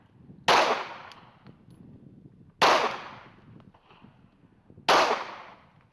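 Three loud gunshots at a shooting range, fired slowly about two seconds apart, each a sharp close blast with a short ringing decay and no talking between them.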